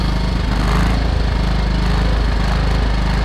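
Small generator engine running on choke during a cold start, a loud rough chugging idle with uneven pulsing beats, close up and continuous.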